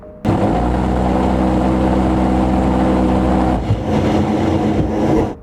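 A loud, sustained mechanical roar from an A-10 Warthog aircraft gun firing, a steady low rumble lasting several seconds, then shifting and echoing from the sky before cutting off.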